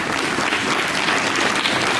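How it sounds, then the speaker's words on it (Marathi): A crowd gives a sustained round of clapping for teachers and a local area leader at a school gathering, dense and steady from start to finish. "त्यांच्यासाठी पण आपण टाळ्या वाजवू"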